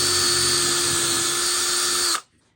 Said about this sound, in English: so we have to drill our holes